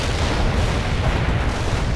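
Anti-tank strike explosions in the World in Conflict video game, a dense, loud, continuous rumble of blasts and booms filling the whole moment.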